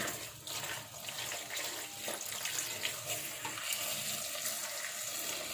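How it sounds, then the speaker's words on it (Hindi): Kitchen tap water runs steadily into a sink while tomatoes are washed, with a continuous close splashing stream and occasional clinks. "ये टमाटर वगैरह धोकर रख लेती हूँ"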